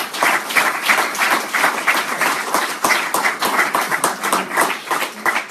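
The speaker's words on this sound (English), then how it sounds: "Let's give the Lord a round of applause." A church audience claps in a dense, steady round of applause with sharp individual hand claps, loud and close, lasting several seconds without talk.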